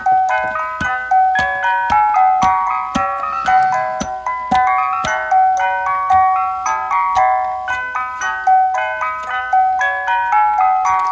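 A Fisher-Price toy music box record player plays Children's Marching Song: bright, plinking comb notes in a steady marching rhythm with faint mechanical clicks, continuous and close for about eleven seconds.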